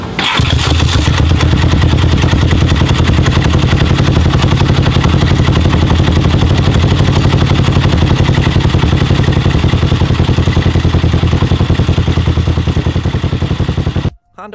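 A Honda Superhawk motorcycle engine starts up and idles loudly with a steady, throbbing rumble, then cuts off abruptly at the end.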